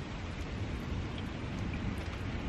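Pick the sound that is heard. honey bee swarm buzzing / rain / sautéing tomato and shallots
rain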